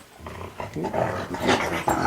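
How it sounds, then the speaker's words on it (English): Several dogs barking and growling excitedly in quick bursts, close and loud, with no voices over them. "our dogs are going crazy right now"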